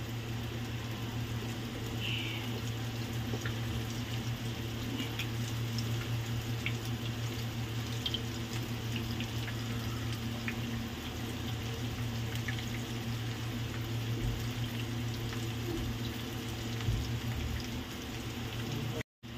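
Chapli kebabs frying in oil, turned over until golden, giving a steady close crackling sizzle with faint pops and a constant low hum beneath, without any talk.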